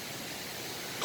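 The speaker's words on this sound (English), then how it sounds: "Hey, what's that waterfall doing?" A waterfall at a camping spot, a steady broadband rush of falling water, even and continuous for about a second with no voices.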